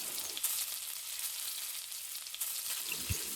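Chillies, ginger, onion and salt sauté in a pan for a spicy sesame chutney, a soft steady sizzle with a few faint stirring clicks, quiet and continuous.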